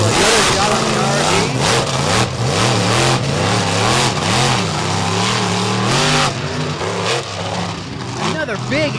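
Monster truck engines roar and rev repeatedly at a beach race, loud and close, with pulsing throttle bursts rising and falling throughout and a crowd-like wash beneath.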